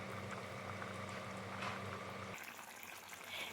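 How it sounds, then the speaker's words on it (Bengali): Pointed gourd (potol) simmering in a thick gravy in a covered pan, a steady close bubbling hiss with a low hum that drops away partway through, leaving softer crackling. "এখন আমি ঢেকে কিছু সময়ের জন্য পটলগুলোকে ভালো মতন গ্রেভির সাথে ফুটিয়ে নেব।"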